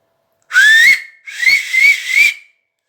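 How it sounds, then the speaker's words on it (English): A sharp, shrill whistle made with the fingers, one long rising blast followed by a second longer one that wavers in pitch, loud and close, with nothing else around it. "keep adjusting it until you get the noise like this"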